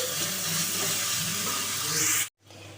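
Onion and tomato sautéing in a pan for a Tamil cumin kara kuzhambu, a steady close sizzling hiss that cuts off abruptly near the end, then resumes faintly.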